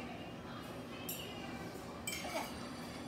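Glasses clink together in a toast during a home Creole cooking session, two bright chimes about a second apart over steady kitchen background noise and nearby voices.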